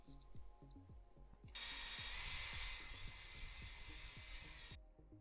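A drill bores a hole through a plastic Thrustmaster flap and speedbrake lever module, a loud steady whine lasting about three seconds over faint rhythmic ratcheting clicks.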